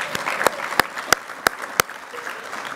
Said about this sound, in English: yes, that's right, let's applaud.